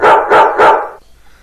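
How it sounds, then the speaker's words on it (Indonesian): A dog barks three times in quick succession, loud and close, and then it goes quiet, with no voices present. "melompat kian kemari, menggonggong seperti mengerti"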